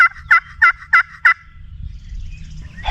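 A wild turkey gobbles five times in a quick, evenly spaced burst, loud and fairly close in an open field, followed by quiet outdoor rustling.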